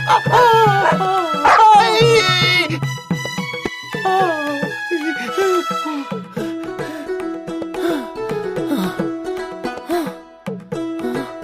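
Several sharp dog barks and yips up front, then softer whimpering and scattered barks over a busy musical background.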